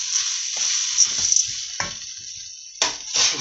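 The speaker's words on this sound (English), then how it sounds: "Stir those in." Lentils and yellow split peas being stirred into a hot pot of Indian stovies, with a close sizzle and short scraping, shuffling bursts from the spoon against the pan.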